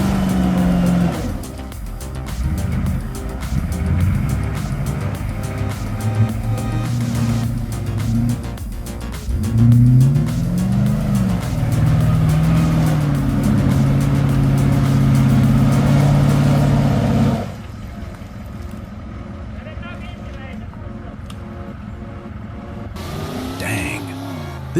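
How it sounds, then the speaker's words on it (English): Off-road buggy engine straining up a steep sandy slope, loud revving with rising and falling pitch and tyre noise, under a voice talking, before cutting off abruptly. "This off-road buggy is a straight-up hill climb monster. It's clawing its way up that steep, sandy slope like it's nothing."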